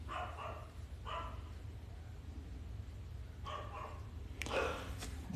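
A dog barks in several short bursts, a couple near the start and another pair toward the end, moderately close indoors over a steady low background hum, with a faint voice nearby.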